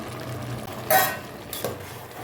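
A spoon stirs grated jaggery into cooked rice in a metal pot, giving two brief scraping clinks against the pot in an otherwise quiet kitchen.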